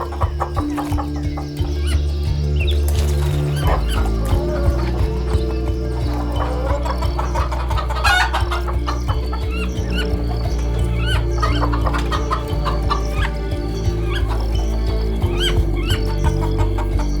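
Hens let out of their coops in the morning cluck and cackle steadily throughout, with a rooster-like call and some hoof-like clopping mixed into a busy farmyard bed, and no talking.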